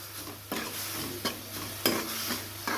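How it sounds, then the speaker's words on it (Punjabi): Dry spice masala roasting in oil in a pan for onion sabzi, stirred with a utensil: soft continuous sizzling under four distinct scraping stirs, close and moderately loud, with no talking. "ਜਿਹੜਾ ਉੱਤੇ ਸੁੱਕਾ ਮਸਾਲਾ ਪਾਇਆ ਨਾ ਉਹਨੂੰ ਆਪਾਂ ਭੁੰਨਣਾ ਹੈ"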